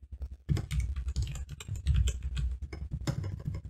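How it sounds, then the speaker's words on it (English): Typing on a computer keyboard during a hacking walkthrough, a steady run of quick, close key clicks that fill the clip after a short quiet start. "I apologize for my terrible typing."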